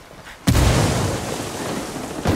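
Frag grenade detonating in Ghost Recon multiplayer: one loud, close blast with a booming low-end burst that decays into a rumbling roar, followed by a second sharp report near the end.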